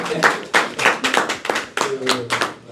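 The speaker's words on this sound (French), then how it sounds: "On les applaudit." Small group clapping at a Christmas and year-end celebration, loud close bursts of claps in uneven rhythm with short pauses between them.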